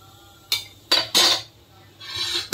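A spoon scrapes and clanks against an open cooking pot of rice as it is stirred, three or four short metallic bursts with brief pauses between, close by and without talk.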